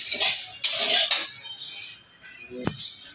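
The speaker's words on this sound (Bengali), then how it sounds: "এরকম অনবরত বন্ধুরা নেড়ে যেতে হবে, নাড়তে হবে, নাহলে কিন্তু পুড়ে যাবে" Clattering scrapes of a spatula against a pan while fish curry masala roasts over lowered gas, with several bursts of metallic stirring that then fade into quieter sizzling and a single sharp clink near the end.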